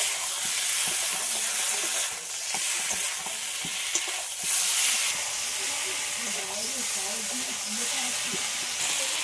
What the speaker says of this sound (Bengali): এবার আমি ভেজে রাখা মাছটা এই মশলার মধ্যে দিয়ে একসাথে একটু ভালো করে কষিয়ে নিই